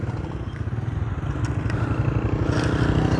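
A tractor heading toward a concrete mixer machine at a construction site rumbles steadily with a pulsing engine throb and some clatter, close and continuous.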